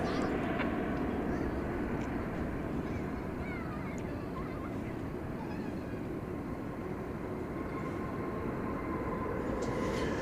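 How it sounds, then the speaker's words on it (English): An American Airlines Airbus A321 arriving at DFW Airport at night from Puerto Vallarta produces a steady, loud jet roar and rumble that holds evenly throughout, with no clear rise or fade. "Airbus A321 arriving from Puerto Vallarta in Mexico."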